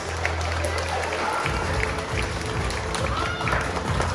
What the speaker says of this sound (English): Let's get a big round of applause for Antipholus and Dromio of Ephesus